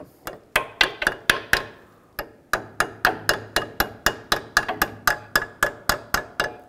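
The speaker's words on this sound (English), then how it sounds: "Use a hammer, give it a tap." A hammer taps a brake line clip on a 2000-06 GMC Yukon repeatedly at close range, sharp evenly spaced metal strikes with a brief pause before the tapping resumes.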